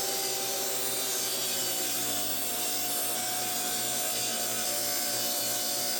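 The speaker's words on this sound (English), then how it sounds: "After getting the miter saw set up, I cut one end on all the 3 shelves perfectly square" A miter saw cuts wooden shelves, giving a continuous loud, dense roar with a steady motor tone running throughout and no pauses.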